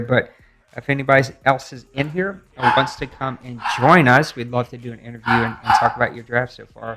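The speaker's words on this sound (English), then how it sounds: "As you can hear my son's dog barking in the background." A dog, the son's pet, barks and yips faintly in the background beneath a man's steady, close talking.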